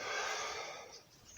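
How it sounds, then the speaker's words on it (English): Slow breathing in and out during a guided breathing exercise, a single soft breathy exhale close to the microphone, fading over a second and a half without speech. "We're breathing in. And out."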